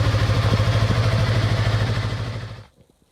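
A motorcycle engine idles steadily while warming up before an oil change, a close, loud, even rumble with a slightly lumpy pulse that runs on and then cuts off near the end, leaving near silence.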